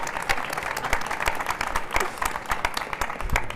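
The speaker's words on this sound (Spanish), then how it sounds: "pero creo que este testimonio de Rosa se merece un aplauso, sinceramente." An audience at a scale-modelling talk breaks into sustained applause, dense overlapping claps filling the room steadily from start to finish.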